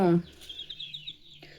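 Native country chickens in a shed give soft clucks and chirps, faint and scattered after a brief loud opening cry.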